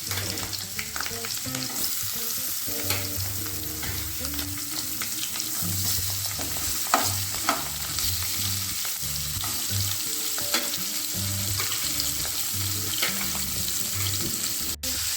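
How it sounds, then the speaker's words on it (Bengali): River prawns sizzle steadily in hot mustard oil in a pan, a constant crackling hiss with occasional stirring and clinks. "একে একে সব কটা মাছ ভেজে নেবো"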